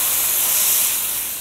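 Water poured into a hot wok bursts into a loud, dense hiss of steam and sizzle. The hiss stays close and continuous, then eases slightly by the end of the brief moment.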